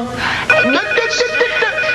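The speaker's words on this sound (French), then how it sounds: "tu me passes le téléphone, s'il te plaît? Ça doit être mon ami Hubert Reeves, le téléphone" A telephone rings in a busy interior, its electronic tone sounding in repeated steady pulses over dense background noise and clutter.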